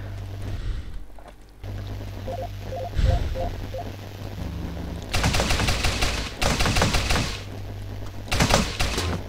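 Nail gun firing in the video game Teleglitch, a rapid rattling string of sharp shots in several bursts over a steady low game hum, with a few soft electronic blips beforehand.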